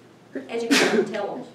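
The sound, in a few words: sneeze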